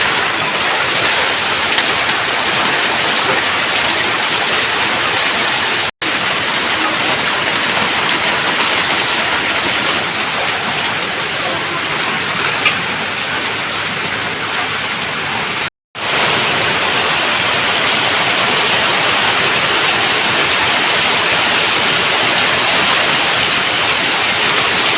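Heavy rain pours down over a village in the evening, a loud, steady, unbroken hiss of dense rainfall that lasts throughout, with only two very brief dropouts.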